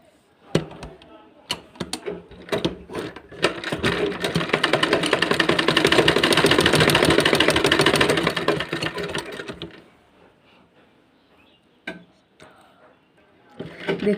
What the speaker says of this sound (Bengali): দেখুন গাইজ, আমরা এখানে এইভাবে সেলাই দিয়ে দিলাম।